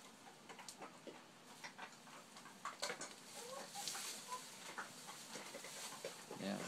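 Chickens cluck softly inside a sheltered enclosure kept warmer than the barn, a scattering of short, faint calls over low background noise.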